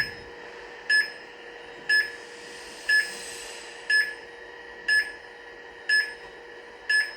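A device's alarm buzzer beeps in a steady rhythm, seven short tones about one second apart, clear and moderately close over a faint background hum.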